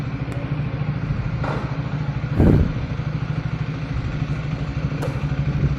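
A new motorcycle runs at a steady, low engine rumble close by, with a brief louder rev burst partway through and no voices.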